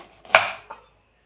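Shernya vegetable being cut, a couple of crisp knife chops on a board, one sharp strike followed by a lighter one, close and alone in a quiet room.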